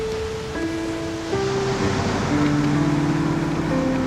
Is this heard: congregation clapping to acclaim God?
no